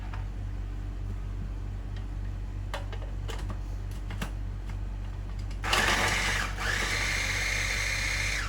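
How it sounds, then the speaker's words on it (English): Ingredients for a Malay chicken curry go into an electric chopper; after quiet hum and a few clicks, the motor suddenly starts with a loud steady whirr and briefly dips before running on. "I'm going to use a chopper."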